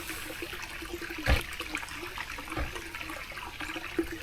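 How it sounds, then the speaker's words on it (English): A heavily running desert spring at Big Bend Ranch State Park, with steady, faint water trickling and flowing close by, broken by a few soft splashes or knocks. "this spring is running so heavy"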